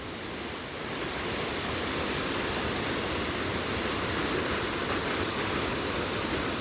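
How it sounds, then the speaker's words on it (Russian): A waterfall on the Putorana Plateau, reached on a hiking trip, pours with a loud, dense, continuous roar that fills the whole scene and stays steady throughout. "мы пришли к водопаду"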